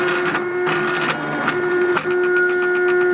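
A P-Cut CTO 630 vinyl cutter slices vinyl for model aircraft, giving a steady close mechanical whir with a constant tone and a few brief clicks and pauses as the blade moves.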